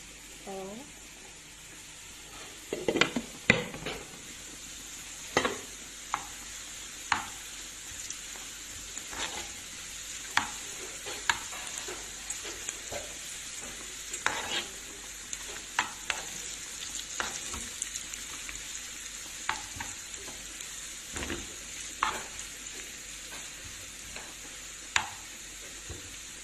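Onions fry until golden in a pan for Egyptian koshari, giving a soft continuous sizzle broken by frequent sharp clicks and stirring knocks, with a faint voice now and then.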